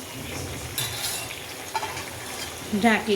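Green onions fry and sizzle in a pan while being stirred, with a steady hiss and occasional scraping. A brief voice speaks near the end.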